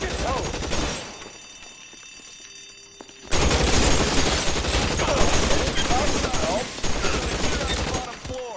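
Shotgun gunfire in the L.A. Noire video game, a dense, loud barrage of shots erupting after a quieter opening stretch and continuing steadily to the end.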